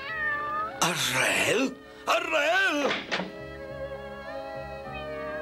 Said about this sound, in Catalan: No m'ho hagués pensat mai que enyoraria aquest maleït gat.